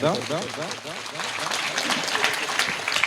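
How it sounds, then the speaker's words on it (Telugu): A church congregation at a thanksgiving mass applauds together, a dense wash of many hands clapping that builds over a few seconds while a voice talks over the start. "అందరూ ఒకసారి కరతాళ ధ్వనులతో చప్పట్లు కొడదాం"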